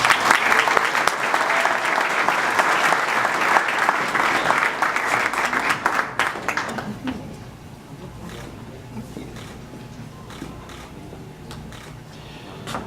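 Loud, dense applause from a crowd at the evening event of a golf tournament at the St Raphael club on Île Bizard fills the room for about six seconds, then dies away into quieter room noise.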